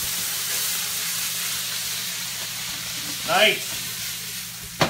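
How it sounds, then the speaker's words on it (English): Diced walleye sizzles and hisses steadily in a hot wok, a continuous bright frying sound, with a brief voice partway through and a clatter at the end. "we're just fine dicing this up and then we're going to toss this right into the heat"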